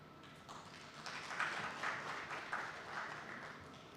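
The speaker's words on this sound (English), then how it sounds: "I thought the applause would be louder than that." Scattered applause from a modest conference audience at an environment week event, fairly faint and thin, swelling slightly then holding steady for a few seconds.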